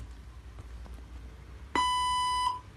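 After a stretch of faint background noise, a language-translator robot gives one clean, sustained electronic tone of roughly three-quarters of a second, sharp and prominent, with no voices.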